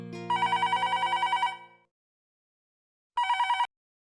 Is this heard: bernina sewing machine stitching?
no